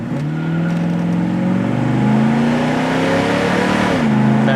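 A 1970 Sport Satellite's engine revs up and pulls hard through the gears, a loud, close rising roar with a brief dip at a shift, then climbing again.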